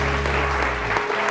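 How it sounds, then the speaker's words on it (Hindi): A studio audience on a television morning show claps in a brief, dense burst over a low steady musical drone that drops away near the end. "तालियां बजाइए इनके लिए"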